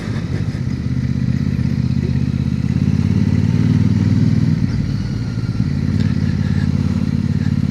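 A motorcycle rides steadily through Cheddar in Somerset, a loud, close, continuous engine drone with wind buffeting and a slight dip and rise in revs.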